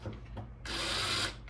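A power tool drives down screws on an engine's rotor plate during a 1000hp engine build, a short whir running for just over half a second after a couple of quieter blips, close and fairly loud.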